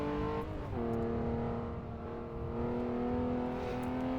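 A 1960s AC Legends GTC race car in a racing game accelerates hard around the Goodwood circuit, its engine note climbing in a loud, steady drone with one brief gear-change dip, no talk over it.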